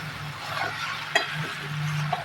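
Vermicelli frying in oil for a different-style shavige upma, giving a steady low sizzle with soft stirring scrapes and one sharp utensil tap midway, close and continuous with no talking.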